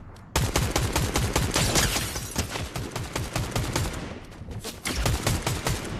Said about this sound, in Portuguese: Dá um tiro aqui lá, dá um tiro.